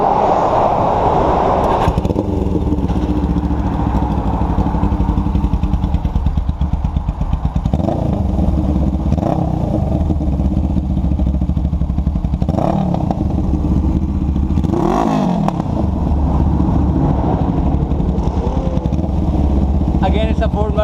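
A Suzuki GS500 cafe racer motorcycle engine idles with a throaty rumble, then revs sharply several times, each burst rising and falling, close and loud with voices speaking alongside.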